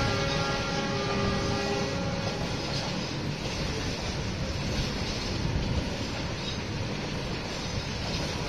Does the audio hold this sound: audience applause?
no